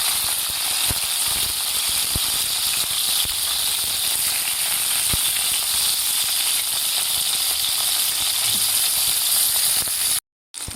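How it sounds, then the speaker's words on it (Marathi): Eggplant pieces frying in hot oil for a spicy Maharashtrian curry, a steady loud sizzle with faint crackles running throughout, cutting out briefly near the end. "दोन ते 3 मिनिट मी हे तेलामध्ये वांगे फ्राय करून घेतलेले आहेत."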